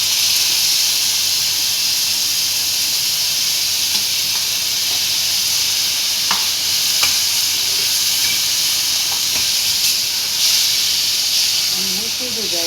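Roasted brinjal for Maharashtrian vangyache bharit tipped into a hot oiled pan, giving a steady loud hiss and sizzle with faint stirring clicks throughout.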